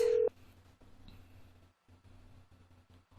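A telephone is dialed in the Nancy Drew: The Haunted Carousel video game: a short bright tone opens, followed by faint clicks and a quiet line hum with brief gaps.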